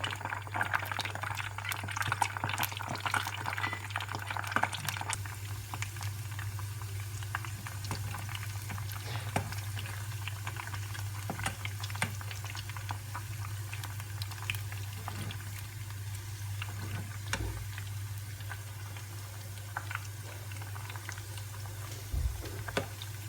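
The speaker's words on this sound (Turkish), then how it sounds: "İçli köftelerimizi yağın içerisine alıp kızartıyoruz." Stuffed bulgur meatballs (içli köfte) fry in hot oil with a continuous crackling sizzle and scattered pops, steady and fairly quiet, alongside a low electrical hum.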